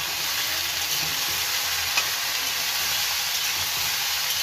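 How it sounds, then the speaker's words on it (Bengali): Potatoes sprinkled with salt and turmeric fry in a pan with a steady, loud, broadband sizzle and hiss that holds evenly throughout, with no voices. "আলুর উপরে নমক আর হলুদ গুঁড়ো দিলাম। এইভাবে ভেজে নেব।"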